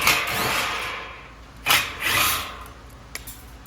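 Several perimeter bolts are backed out of the grill of a 24-inch BiltHard floor fan with a 5mm Allen key, giving short metallic scrapes and ratcheting clicks in a few separate bursts, close by and moderately loud, with no talking.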